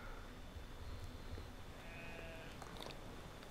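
Sheep bleat faintly in the video game Brothers: A Tale of Two Sons, several short wavering calls scattered over a soft, constant background of game ambience.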